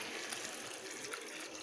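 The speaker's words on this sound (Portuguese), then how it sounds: "Vou colocar agora aqui" About a litre of water pours steadily into a cooking pot in a home kitchen, a continuous splashing gush with no talking over it.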